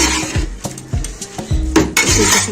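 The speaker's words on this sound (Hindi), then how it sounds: "दाल को मैं अच्छे से मैश करूंगी" A metal spoon stirs and mashes cooked moong dal with onion and tomato in a pot, giving close, repeated clinking scrapes and soft squelchy mixing strokes over a couple of seconds.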